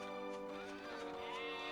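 A sheep bleats in the Dragon Quest VIII video game, a wavering, nasal cry held steadily for under two seconds over faint game background.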